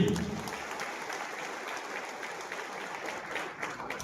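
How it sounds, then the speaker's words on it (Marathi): Steady crowd applause fills a BJP political rally in Vita, honoring state president Ravindra Chavan, with dense, sustained clapping at an even level from start to finish. "प्रदेशाध्यक्ष सन्माननीय रवींद्रजी चव्हाण साहेब यांच्यासाठी एक जोरदार टाळी."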